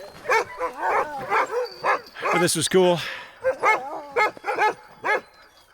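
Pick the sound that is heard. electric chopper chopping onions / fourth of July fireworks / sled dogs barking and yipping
sled dogs barking and yipping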